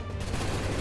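A brief, dense burst of a musket volley fired by a line of soldiers in Assassin's Creed 3, loud and close, merging into a single rolling crackle.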